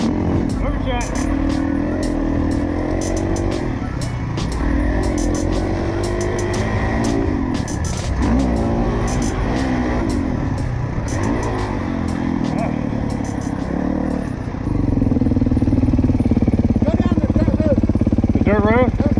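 A 2019 Kawasaki KX450 dirt bike engine revs and pulls under throttle on a dirt road, loud and close throughout, rising and falling with each twist of the grip while a rider talks over it.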